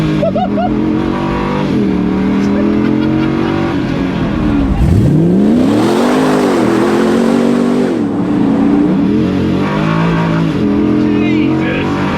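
An LS V8-swapped Bowler Wildcat with a ZF transmission revs hard, its engine note climbing and sweeping in pitch, loud and close as the wheels spin, with voices talking over it.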